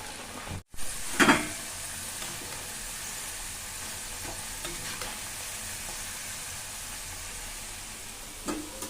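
Cut potatoes hit hot oil for french fries, with a sharp burst of crackling after a brief dropout, then a steady close sizzle and occasional pops.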